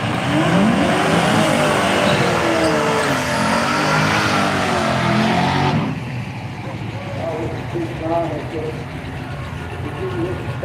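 A drag racing car at a Street Machine Drag Challenge revs and spins its tyres in a loud burnout, then the roar cuts away to a quieter engine idle, with an announcer talking over it.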